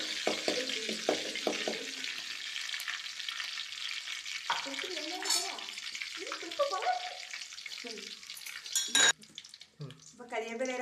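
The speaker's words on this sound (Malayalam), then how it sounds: "അപ്പോൾ നമുക്ക് ഇതിൽ കരിവേപ്പില ചേർത്ത് കൊടുക്കാം." Curry leaves hit hot oil with popped mustard seeds for mango pickle. Bursts of crackling sizzle mix with a spoon scraping and clinking against the pan, and the noise rises and falls with the stirring.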